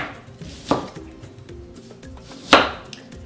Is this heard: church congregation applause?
no